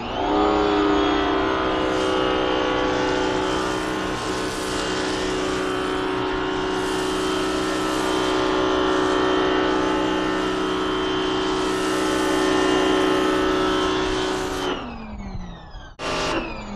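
An 1800 PSI power washer with a foam-cannon attachment drones loudly and steadily while snow-foaming a Plasti Dip-coated car, then cuts off near the end, leaving brief clatter. Nobody speaks.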